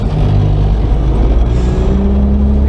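A car engine idles close by with a loud, steady low rumble and a slight rattle, holding an even level for a few seconds with no voices.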